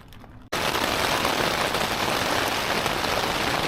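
Heavy rain and wind lash a tent during a stormy Icelandic night, bursting in suddenly after a quiet moment and then roaring steadily and loudly without a break.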